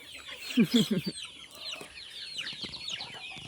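Fighting gamecocks give a few loud, close clucks near the start, followed by softer scattered clucking and faint calls over a quiet farmyard background.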